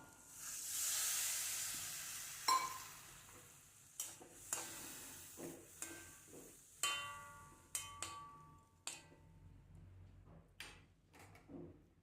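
Tamarind water poured into a pan with sautéed green chillies hisses in a loud sizzle that fades over a couple of seconds, followed by scattered sharp spatters, pops and stirring clicks in a quiet kitchen.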